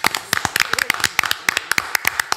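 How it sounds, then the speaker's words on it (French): A small group claps at a talk, with sharp separate claps in an uneven rhythm that sound close by. A voice is heard over them. "Applaudissons-nous."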